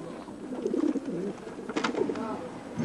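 Pigeons cooing on a housing estate in Leeds, soft repeated low coos rising and falling over a few seconds, with outdoor background noise and some faint voices nearby.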